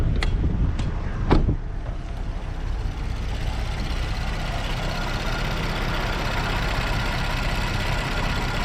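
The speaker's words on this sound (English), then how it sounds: "Car idle's good." The engine of a 2010 Volkswagen Passat R36 idles steadily with a low rumble, after a couple of sharp clicks or thumps near the start, with no talking.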